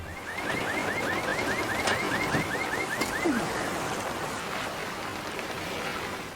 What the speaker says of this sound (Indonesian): Lori pun mengambil kunci mobil milik Chris dan menyalakan alarmnya agar para pengendara mengetahui keberadaan mereka